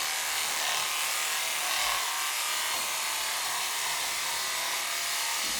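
Electric clippers buzz in a steady, close, continuous hum as they trim down the leg of a cocker spaniel, the tone barely changing across the whole stretch with no talking.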